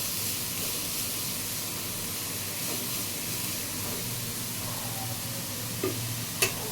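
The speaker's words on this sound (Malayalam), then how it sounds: "ഓമയ്ക്ക അരിഞ്ഞു വെച്ചത് ഇട്ട് കൊടുത്തതിന് ശേഷം നമുക്കതൊന്ന് ജസ്റ്റ് മിക്സ് ചെയ്യാമേ." Chopped raw papaya stirred in a hot pan for a papaya thoran, giving a soft continuous sizzle and hiss with a couple of faint utensil clicks near the end.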